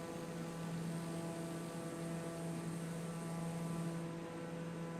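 Airplane engine in the Microsoft Flight Simulator video game, a steady droning hum with a constant pitch that holds evenly throughout, moderately loud with no voices.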